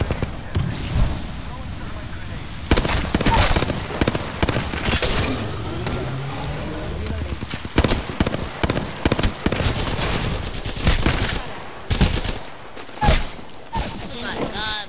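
Apex Legends gunfire, repeated bursts of rapid shots scattered through a busy firefight, close and punchy, with voices talking over parts of the action.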